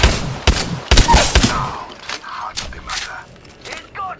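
Gunfire in the Apex video game, sharp close shots cracking in quick bursts at first, then sparser hits and mechanical clatter as the pace slows.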